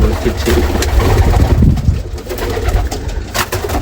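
Pigeons cooing inside a pigeon cage, their low repeated coos close and loud over steady background hum and rustling.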